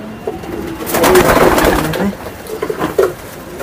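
Racing pigeons in a loft give close, repeated throaty coos, with some soft rustling and handling noise in between.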